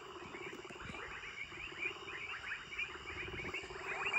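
Frogs croaking at night in Tanzania, a dense chorus of rapid, pulsing calls layered with insect buzzing, moderately distant and continuous, growing slightly louder toward the end.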